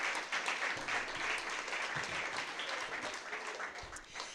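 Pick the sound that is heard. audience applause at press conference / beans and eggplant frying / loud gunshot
audience applause at press conference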